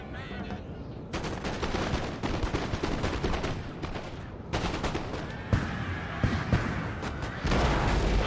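Artillery cannon fire in the Napoleon: Total War battle game, a rapid series of booming shots and crackling volleys, loud and repeated throughout over a continuous battlefield din.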